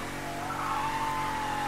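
Tires squealing as a car skids through a handbrake turn in the open-world game Mafia III, a sustained close, high screech over steady engine noise, with no talk.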